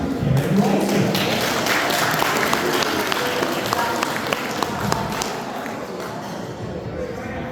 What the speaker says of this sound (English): let's give a round of applause to Karin Roulston